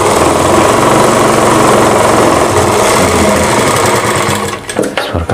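A sewing machine runs loud and steady, stitching a panel of an umbrella lehenga, its fast needle rattle continuous for several seconds before easing off into a few short bursts at the end.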